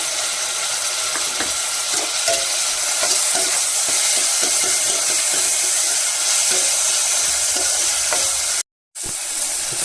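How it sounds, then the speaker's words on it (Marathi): Tomatoes roast with fried onions in a pan for Malvani kaleji, making a loud continuous sizzle with stirring scrapes and a brief dropout near the end. "कांदा लाल झाला आता टोमॅटो भाजते"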